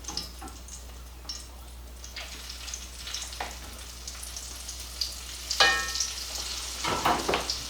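Pieces of country fried steak sizzle in a pan, a steady frying hiss broken by repeated short scrapes and taps as they are moved about, growing busier toward the end.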